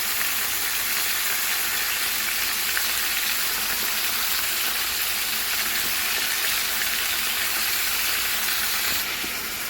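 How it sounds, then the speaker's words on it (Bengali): Pumpkin, potato and drumstick pieces fry in a pan with turmeric, producing a loud, unbroken hiss of sizzling oil that runs evenly throughout, with no talking. "ওইদিকে কুমড়ো আলুটা ভাজা হচ্ছে"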